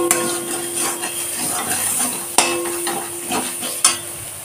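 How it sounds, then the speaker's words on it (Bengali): Taro being sautéed with salt, sugar, turmeric and chili powder in a pan, close spoon scraping and light sizzling with two sharp metallic knocks of the utensil against the pan. "এখন হালকা কষিয়ে নেব"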